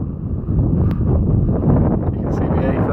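Strong wind on open Dartmoor moorland buffets the microphone in a loud, continuous roar with gusting swells throughout.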